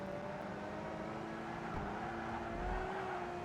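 A Ferrari 250 GTO engine in the Project Gotham Racing 2 racing game holds a steady, droning note while lapping an Edinburgh street circuit, constant and moderately loud with slight pitch shifts and no speech.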